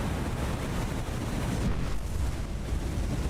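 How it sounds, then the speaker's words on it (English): A ship hit by naval gunfire salvos explodes in the War on the Sea naval combat game, a dense, steady roar of blast and debris noise filling the space at close range for several seconds, without talk. "Okay, we got another explosion. Hopefully that destroyed something."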